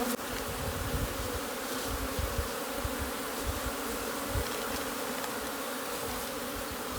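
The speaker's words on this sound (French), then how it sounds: "les abeilles, comme il faisait pleuvoir 2-3 jours, donc vous voyez, les abeilles sortent" Honeybees flying out of their hive after several days of rain, a continuous low buzzing drone of many insects close by, steady and unbroken throughout.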